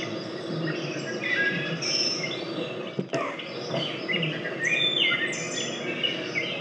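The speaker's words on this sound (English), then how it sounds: "there's the dawn chorus." A dawn chorus of many birds singing and chirping at once, overlapping calls and trills near and far, with a steady insect-like buzz beneath and one brief knock midway.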